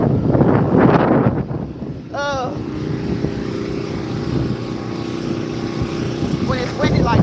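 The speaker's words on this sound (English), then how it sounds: "when it's windy like that, it just knocks against the phone" Strong wind buffets a phone microphone on a windy outdoor walk, producing a continuous loud low rumble and roar that swells and fades, with a few faint high chirps partway through.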